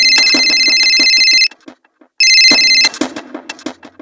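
A loud electronic phone ringtone trills in two long bursts separated by a short pause, close and piercing.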